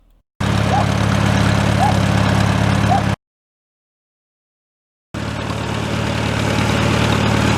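Antique tractor idling with its old engine, a steady low rumbling drone running loud and close in two stretches split by a gap of silence.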